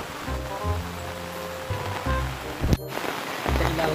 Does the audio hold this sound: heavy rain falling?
yes